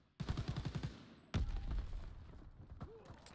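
In the multiplayer shooter Call of Duty WWII, an MG42 machine gun fires a rapid burst of close shots, then a heavy blast and further scattered gunfire.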